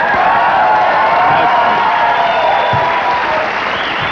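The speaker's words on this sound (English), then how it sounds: "Thus the beauty of having access to my own applause button." Canned studio applause triggered by a talk-show host's applause button, a dense steady wash of clapping and crowd noise with faint cheers, loud and continuous throughout.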